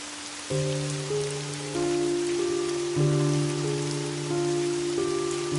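Heavy rain falls steadily in a cartoon scene, a constant hiss of drops on surfaces beneath sustained low musical tones, with no voices.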